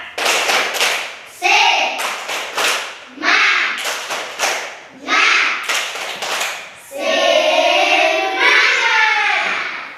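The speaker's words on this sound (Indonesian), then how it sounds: "Satu kali tepuk semangat." Schoolchildren in a classroom perform the Indonesian spirit clap, tepuk semangat, in sharp, loud bursts of rhythmic group clapping set in short patterns with pauses between. The clapping ends in a sustained shout of children's voices together.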